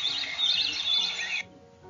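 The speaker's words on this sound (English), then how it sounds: "And even the chirping of a bird." Small bird chirping in a quick run of high, bright tweets that cut off abruptly, followed by a quieter tail of faint background.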